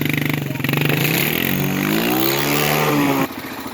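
A quad ATV crawls in first gear through thick north pasture brush, its engine droning close and loud with a rising, wavering pitch before easing off at the end.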